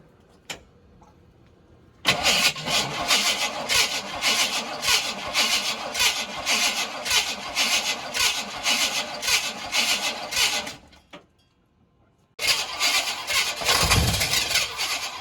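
A 1987 Chevrolet K5 Blazer that sat for years gets a first start attempt after a new fuel pump: a long, rhythmic starter cranking for about nine seconds, a pause, then a second bout of cranking, close and loud.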